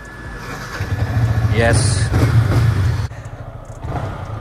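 A Kawasaki ZX10R motorcycle engine rumbles low and steady, swelling louder through the middle before easing back, with someone talking loudly over it throughout.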